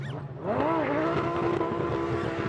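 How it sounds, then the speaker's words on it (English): Lamborghini GT3 race car at Zandvoort during a 2011 FIA GT3 race, its engine revving up sharply and then holding a loud, steady high whine as the rear tyres spin, under a commentator's voice. "And lighting up the rear tyres, that Lamborghini."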